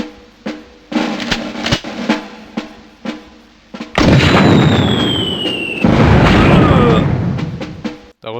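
Mortar blasts and battle effects from the Army Men video game from 1998, in multiplayer mode: a string of sharp bursts and pops gives way to two loud, sustained explosive roars, with a whistling tone over the second blast.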